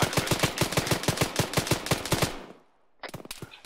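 Rapid automatic gunfire from an Arma 3 firefight, a steady burst of closely spaced shots for over two seconds, a short pause, then another quick burst; loud and close with no talk.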